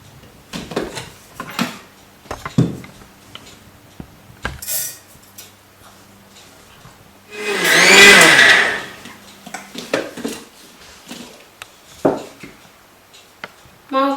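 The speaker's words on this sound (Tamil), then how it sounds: "இப்போ இதை நம்மளுடைய மிக்சர் ஜாரில் போட்டு நல்ல மையான ஒரு பொடியாக இதை திரிச்சு எடுத்துக்கலாம்" Mixer grinder jar grinding rice into fine powder, one loud whirring burst of about two seconds in the middle, surrounded by quieter clinks, taps and handling noises of the jar and utensils.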